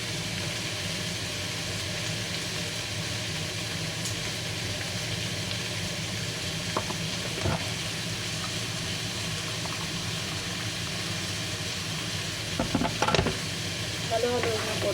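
Sweet and sour chicken sauce stirred in a pan, a steady close sizzling hiss with soft scraping throughout and a few sharper clinks near the end.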